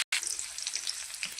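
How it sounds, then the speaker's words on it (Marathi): Cashews fry in a pan for a restaurant-style paneer curry, a soft close crackling sizzle with light stirring, steady after a brief cut at the start, with no voices. "त्यानंतर घेतलेले काजू चांगले फ्राय करून घ्या"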